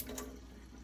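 Filtered water begins running from an under-sink filter tap, a soft steady trickle that starts with a brief splash and continues quietly.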